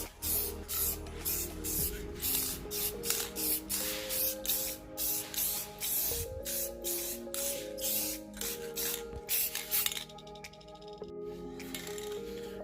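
Polyurethane gloss coat sprayed from a spray gun onto a 1996-01 Honda Prelude lip kit, a steady hiss in a string of short rhythmic bursts, close and fairly loud, with a music bed underneath and no talking.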